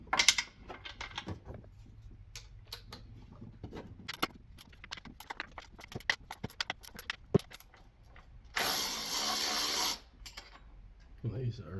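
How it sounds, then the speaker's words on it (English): Metal clicks and light rattles of a ratchet as bolts come out of the intake plenum on a 2013 Cadillac SRX 3.6L V6, in irregular bursts with a loud hissing blast near the end. "we will go ahead and start removing the bolts from the plenum"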